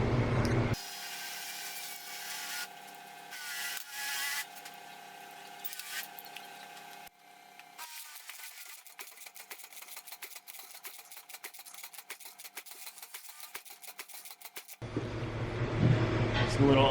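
A Harley-Davidson Shovelhead motorcycle engine cranks over on the starter during a compression test, giving a steady, rhythmic mechanical churning, with clicks and handling noises before it and a louder clatter as it stops.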